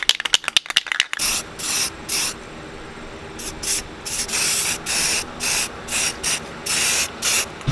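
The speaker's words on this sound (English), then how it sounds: "gonna go ahead and toss some of this automotive primer" An aerosol can of automotive primer hisses in short repeated bursts of about half a second each, close and loud, after a few quick rattling clicks at the start.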